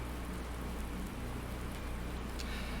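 Constant heavy rainfall in Farming Simulator 19, an even wash of hissing noise with no breaks and nothing else standing out.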